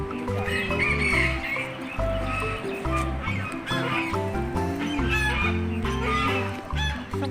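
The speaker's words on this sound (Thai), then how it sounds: "มีห่านด้วยมีไก่แต่ไก่เต็มเลย" Chickens and geese packed into a zoo enclosure cluck and crow, their calls mixed into a dense layer of animal noise at steady loudness.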